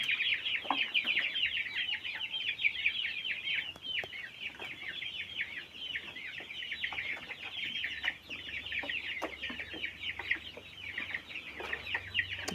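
Chickens and chicks cluck and peep continuously at close range, a dense layered chorus of high calls with no pauses or talk.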